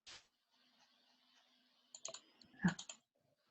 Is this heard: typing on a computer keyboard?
yes